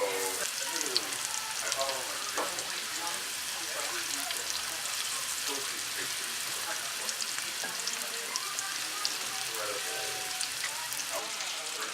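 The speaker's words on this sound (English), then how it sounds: "Look at that sizzle." Chunks of cod sizzle in hot oil over medium heat, a continuous crackling spatter with fine pops that holds steady at a moderate level the whole time.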